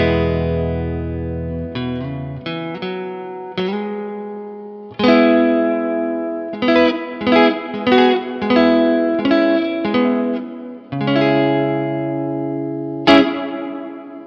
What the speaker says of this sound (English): here it is with the plate reverb